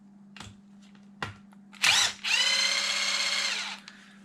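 A power drill fitted with bits drives out bolts, with a short whirring burst followed by a sustained high, steady whine, preceded by a few clicks and knocks.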